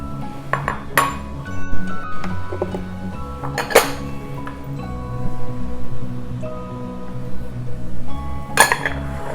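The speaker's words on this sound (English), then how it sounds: "So you're going to put all of our ingredients into the blender." Ingredients for a plant-based nice cream, including almond milk, go into a blender with light clinks, taps and bright pings of containers and utensils, scattered irregularly over soft handling noise.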